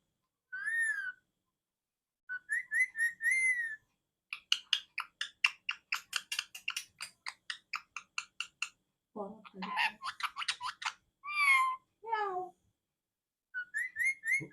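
A parrot whistling and chattering in short bursts, then letting out a few drawn-out, wavering meow-like cries in imitation of a cat.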